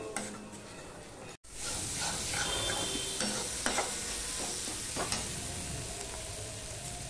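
A tomato-onion masala paste for pabda fish curry is stir-fried, with a dense close sizzle after a brief cut and repeated spatula scrapes and knocks against the pan, no voices.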